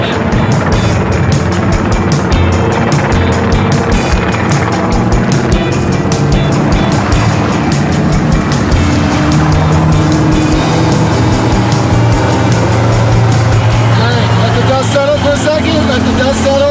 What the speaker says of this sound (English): Jesse, you need to flip around, nail it, and drive out towards our production area.